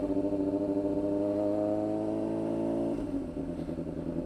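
A motorcycle engine revs steadily under throttle at close range, then near three seconds the pitch drops and the tone roughens as the throttle is released and the rider shifts up a gear, with no talk.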